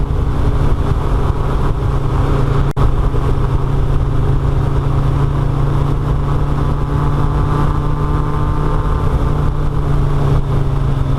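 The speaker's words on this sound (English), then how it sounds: "we jumped back on our motorcycles and headed east" A continuous engine drone, steady and loud like a sport-touring motorcycle cruising along a road in southwest Colorado, with one brief click partway through.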